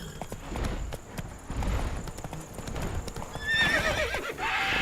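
Roach, a horse in Witcher 3, clip-clops along at a walking rhythm, close and fairly loud, with a whinny rising near the end over soft ambient background.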